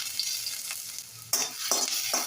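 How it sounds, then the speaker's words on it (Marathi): Finely chopped ginger and garlic dropped into smoking-hot oil for veg Manchurian, giving a steady bright sizzle with bursts of stirring and spattering near the end. "याच्यात आपण टाकूया बारीक चिरलेला अद्रक आणि लसूण"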